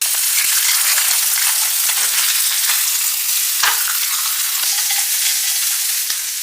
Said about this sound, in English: I certainly wasn't cooking a beautifully prepared barbecue on my special home grill or whatever this thing is